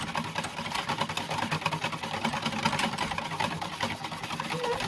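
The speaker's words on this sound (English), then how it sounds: "Give it another whisk up, try and keep the air in it." A Yorkshire pudding batter with added milk is whisked briskly, making a steady, dense, rapid swishing and rattling that continues for several seconds at close range, with no talk.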